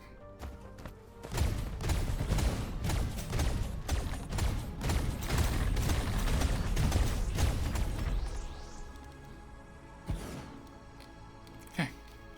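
An artillery tower in the video game Dyson Sphere fires a dense, rumbling barrage of booming shots for about seven seconds, then fades to a couple of isolated thumps.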